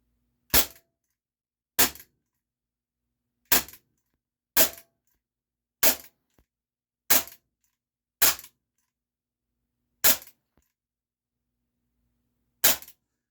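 Air pistol shots at a can, nine sharp, loud, close cracks spaced irregularly a second or more apart with near silence between them.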